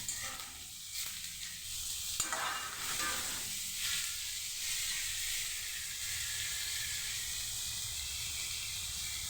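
Chopped tomatoes dropped into a hot pan with leftover roti pieces, a faint, steady hissing sizzle with a few light stirring clatters early on.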